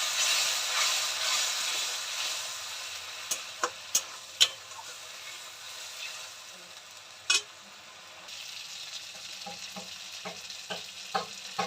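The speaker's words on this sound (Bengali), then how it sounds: "জল দিয়ে দিলাম মশলাটা কষানোর জন্য।" Spice paste frying and sizzling in a pan after water is poured in, a steady broad hiss with scattered sharp ticks and clinks of a spoon stirring; the sizzle eases partway through.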